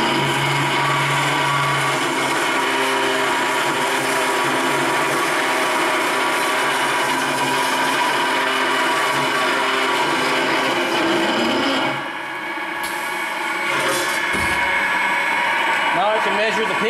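A Scotchman CPO 315 cold saw with a variable-speed head cuts through metal in a loud, steady, grinding whine, which drops off near the end before briefly picking up again.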